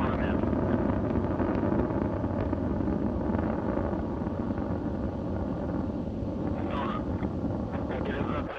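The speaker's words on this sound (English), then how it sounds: "the Soyuz delivering 102 tons of thrust from its four boosters and single engine" Launch of the Soyuz TMA-09M bound for the International Space Station: its four liquid-fuel boosters and single core engine give a continuous, dense, distant roar, heard steadily under a narrator's voice.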